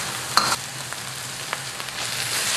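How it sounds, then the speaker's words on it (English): Lemongrass fries in sambal paste in a wok, a steady close sizzle with a few sharp stirring scrapes and clicks, no voices. "Now I'm going to cook this lemongrass for about 2 minutes in this sambal paste"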